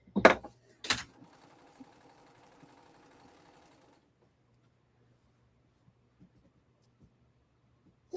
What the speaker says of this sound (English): your sewing machine is so quiet, Jordan.